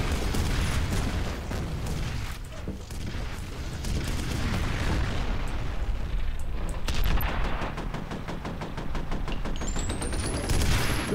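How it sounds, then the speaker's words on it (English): Loud, dense combat noise in F.E.A.R. Perseus Mandate as a missile is fired and explodes, with heavy booming blasts and rapid gunfire running throughout, close and sustained with hardly any pause. "I just shoot the missile"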